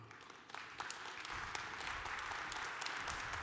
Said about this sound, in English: please welcome on stage with a warm applause our next speaker, Tudor Girba